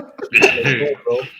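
A sudden sneeze bursts out in the middle of ongoing talk, loud and close, with voices continuing right after it.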